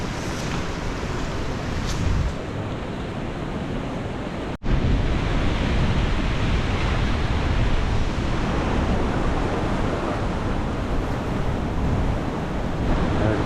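Ocean surf rolls onto a small Bali beach with waves strong enough for surfing, a steady, loud broadband wash mixed with wind buffeting, continuous for the whole stretch with a brief dropout partway and no talking.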